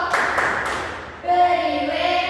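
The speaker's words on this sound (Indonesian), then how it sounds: "Beri tepuk tangan untuk Olivia" Classroom applause for a student named Olivia: a brief burst of scattered hand clapping from a group that fades within about a second, followed by a steadier tonal sound.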